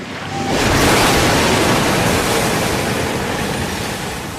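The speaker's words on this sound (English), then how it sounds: "As I corner, the momentum of the slosh capsizes my little van." Water sloshes inside a small model van as it corners and capsizes, a loud, close, broad rushing wash that swells quickly and holds steady for several seconds.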